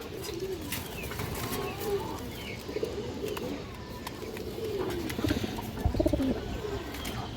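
Pigeons coo repeatedly at close range in a seller's loft housing Indian high flyer birds, with soft overlapping calls, rustling and occasional wing or body noises, and no one speaking.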